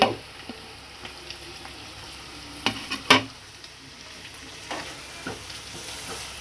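Curry leaves hit hot oil in a pan for an egg and dry methalu curry, giving a steady soft sizzle with a few sharp crackles and pops, close and without talk.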